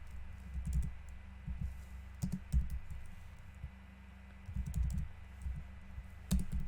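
Typing on a computer keyboard, in quick bursts of soft clicking keystrokes separated by short pauses, close and fairly quiet with no talking.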